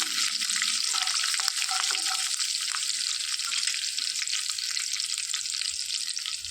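Dried red chillies, curry leaves and cumin seeds frying in hot oil for a spinach gravy curry, giving a steady loud hiss and crackle that runs continuously and close throughout, with no voices.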